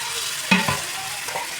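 Fried chicken tossed into biryani masala in a Kerala-style home kitchen, a couple of quick scraping stirs with a soft sizzle beneath, close and alone.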